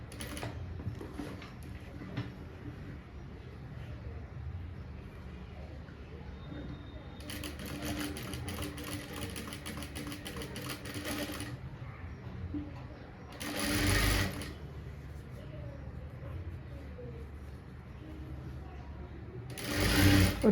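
Sewing machine stitching blouse fabric in a tailoring class, running in steady bursts with short pauses and a few louder surges, heard close up.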